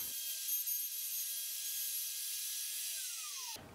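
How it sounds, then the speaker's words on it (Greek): Router cutting away material from beech wood for wooden swords, a continuous loud whine with a steady pitch that drops slightly before cutting off. "Τώρα με το router θα αφαιρέσω λίγο παραπάνω υλικό."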